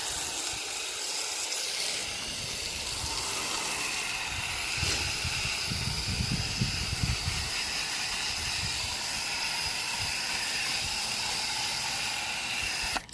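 A Viper foam gun sprays coil cleaner foam onto a single-layer condenser coil, giving a steady, close, breathy hiss that carries on without a break and has no talking.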